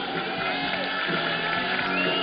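A crowd at a strongman competition cheers and whoops loudly and steadily, a dense roar of voices that holds throughout without a break.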